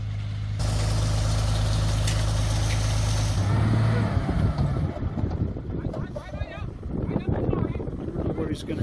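A cement truck stuck deep in mud on a farm property rumbles with a loud, steady low engine drone that strains for several seconds, then fades into rougher, uneven rumbling with people talking over it and some wind noise.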